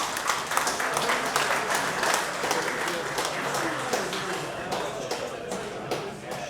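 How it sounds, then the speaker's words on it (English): Steady, dense audience applause fills the room at a model train show awards ceremony, a continuous crackle of many hands clapping at moderate loudness throughout. "please do give them a round of applause as well."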